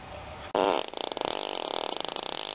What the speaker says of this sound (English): I will leave you now with a real live fart.